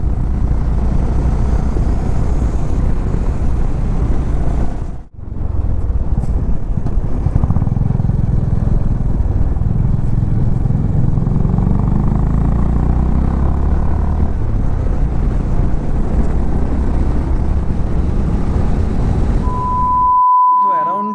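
A motorcycle rides a mountain road near the hill village of Samthar in North Bengal, its engine a loud, close, continuous drone with wind rumble, briefly cutting out once, with a short beep near the end.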